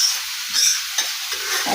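Spices dry-roasting in a pan hiss faintly in short bursts, with a few scraping stirs, close and fairly quiet.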